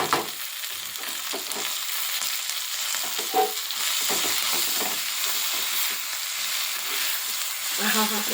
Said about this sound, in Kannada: ಇದನ್ನು ಅಷ್ಟೇ ಚೆನ್ನಾಗಿ ಫ್ರೈ ಮಾಡ್ಕೋಬೇಕು